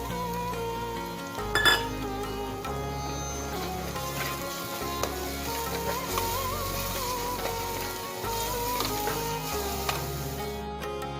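Tomatoes go into a pan of golden fried onions for a Tamil-style kuzhambu and are stirred and sautéed, giving steady low sizzling with repeated clinks and scrapes of a utensil against the pan throughout.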